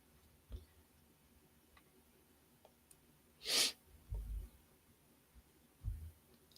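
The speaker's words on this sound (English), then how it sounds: "Oh, I have to sneeze." A single sharp human sneeze bursts out midway through a quiet stretch, preceded by faint clicks and followed by a couple of low muffled snorts or breaths.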